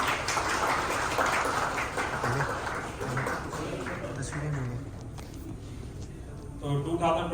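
Seminar audience applauding during a shield presentation, a dense patter of clapping that gradually thins out, with speech over it.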